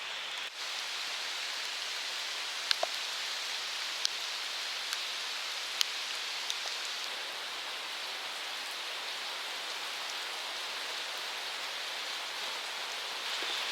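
Steady rain falls in Bennington, Vermont, a dense even hiss with a few sharper drips and ticks scattered across it, heard from a sheltered spot with no talk.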